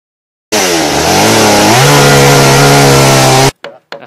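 Chainsaw cutting a saddle notch into a log for a log cabin, its engine revving loud and steady for about three seconds before cutting off, followed by brief clatter.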